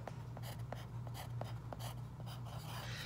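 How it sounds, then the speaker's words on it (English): A marker squeaks and scratches across paper or a board in short repeated strokes, quiet and close, with a steady low hum underneath. "I'm gonna use my marker so you can see"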